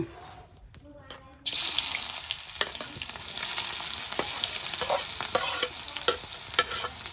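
Onion cooking with black masala in a pan gives a sudden bright hiss of sizzling, then a continuous frying crackle with occasional stirring scrapes and clinks, close and fairly loud.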